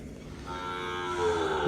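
A cow moos in a cattle shed beside an old house, a long rising bellow that swells after a quiet start and holds steady to the end, close and fairly loud with no talk.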